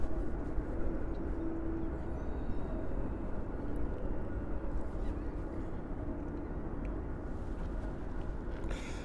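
Condor airliner departing JFK airport on a flight to Germany, a steady distant jet roar with low rumble that holds evenly throughout, no talking.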